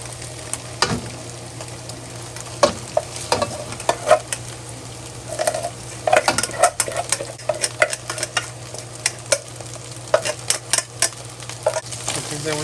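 Leftover rice with scallion is stir-fried in a hot pan, giving a steady sizzle broken by repeated scraping and clattering strokes of a turner against the metal. It is close and fairly loud, with no one talking.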